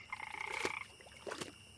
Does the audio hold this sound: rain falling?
no